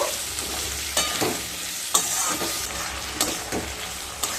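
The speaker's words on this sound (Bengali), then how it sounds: "আলুগুলো দিয়ে ভালোভাবে মিশিয়ে নেব" Sliced long potato pieces stirred in a hot frying pan, a soft continuous sizzle with periodic scraping strokes of the spatula, close and moderately quiet with no speech.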